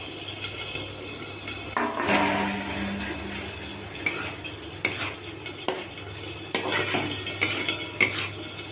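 A spoon scrapes and stirs through a cauliflower and potato vegetable curry in a pan with a soft sizzle underneath, and occasional clinks against the metal.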